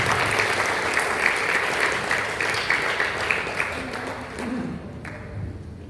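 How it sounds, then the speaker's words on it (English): An audience at a grand final of a star competition breaks into dense, sustained applause that fills the room, then thins and fades toward the end. "Give applause."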